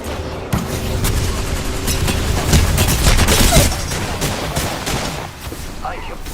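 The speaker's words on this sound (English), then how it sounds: "Taking fire. Hit the injectors. The enemies are shooting" Enemy gunfire in a shooter video game comes as dense, loud volleys of rapid shots and booms that run close together for several seconds, then ease off slightly toward the end.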